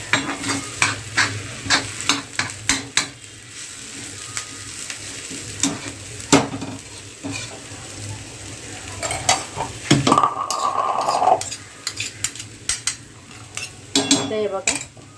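Green pea chutney with chopped coriander being stirred in a pan: repeated spoon scrapes and knocks against metal over a low sizzle, with irregular clatter and a short burst of hissing.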